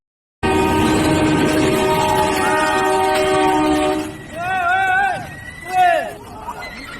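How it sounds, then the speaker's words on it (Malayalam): On a railway bridge near Pali in Rajasthan, a train blasts its horn in a long, loud sustained tone, then voices shout and scream in alarm as the horn fades. "റെയിൽവേ പാലത്തിൽ വെച്ച് വെഡ്ഡിംഗ് ഫോട്ടോഷൂട്ട് നടത്തുന്നതിനിടെ അപ്രതീക്ഷിതമായി ട്രെയിനെത്തി."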